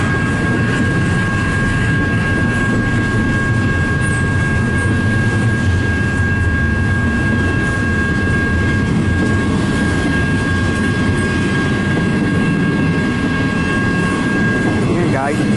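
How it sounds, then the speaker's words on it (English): A long CN freight train rolls past a crossing in Richmond, Michigan, picking up speed, with a steady loud rumble of wheels and cars and a sustained horn-like tone throughout, with people talking nearby. "Wow, it's speeding up now."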